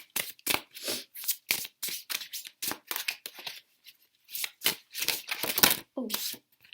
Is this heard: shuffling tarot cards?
yes